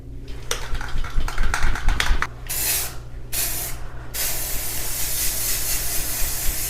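Close clattering of a spray can being shaken, then short bursts of hissing spray onto a wall that lead into a long continuous spray, with no voices.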